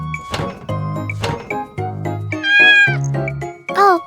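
A cat meows repeatedly at close range, several loud, drawn-out calls with rising and falling pitch, in a kitchen where a chocolate rainbow cake is being decorated.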